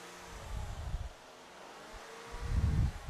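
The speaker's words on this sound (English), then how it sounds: "give it a couple quick, snappy revs" A car engine revs twice in low rumbling bursts, separated by a quieter idle, with some wind noise over the microphone.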